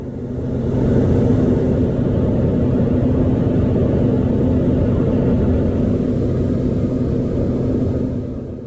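A light aircraft engine in flight gives a steady, droning rumble that holds throughout at an even level, fading in briefly at the start and easing slightly at the end, with no voices.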